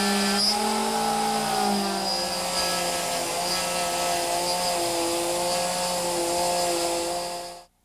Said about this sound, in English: I'm using my router with a 1/2 inch bit